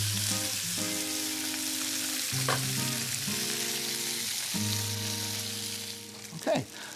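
Halved farmer's-market bok choy sizzles in a hot pan, a loud, continuous frying hiss over a low tonal hum, with a brief clatter near the end.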